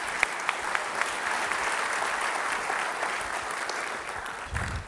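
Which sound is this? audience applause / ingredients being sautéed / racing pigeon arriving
audience applause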